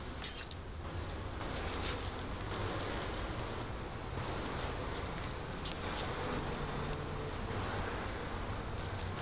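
Honey bees buzz around an open hive during a fall inspection, a steady soft swarm hum filling the whole stretch with a few brief sharp clicks near the start.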